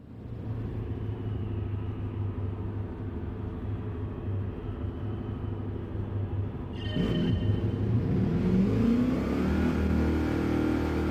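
GT race cars leaving the pits at Le Mans in a racing video game: a steady engine drone that swells into louder revving and accelerating roars as the cars pull away.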